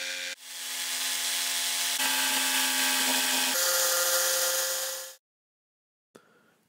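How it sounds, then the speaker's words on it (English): A jigsaw cuts forms from MDF sheets outdoors, a loud, steady high whine with shifting pitch for about five seconds before stopping abruptly, followed by a brief faint restart. "the pieces of MDF were taken outside and the forms cut out with the jigsaw"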